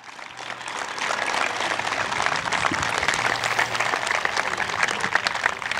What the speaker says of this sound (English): So can we give a big round of applause to Mr. John Honey?